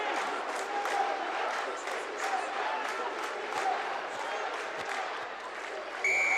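Home crowd at a Portugal versus Spain Rugby Europe Championship match roars and cheers in a broad, distant wash of noise beneath an excited commentator's voice.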